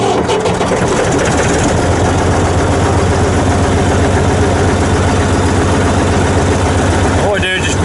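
The engine of an old abandoned bulldozer runs loud and close in a steady, heavy diesel chug that fills the whole stretch, with a clatter near the end.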